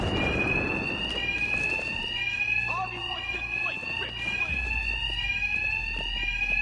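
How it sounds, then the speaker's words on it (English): A shrill fire-style alarm blares continuously with a steady high tone in the Batman Arkham Knight video game, while a character speaks over it. "these thugs can't hear a thing over the alarms"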